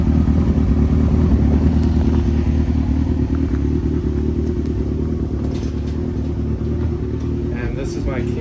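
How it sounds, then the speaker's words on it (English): Suzuki GSX-R 1000 motorcycle engine running loud and close, a steady low rumble with slight rises in revs throughout. "SXR 1000 motorcycle"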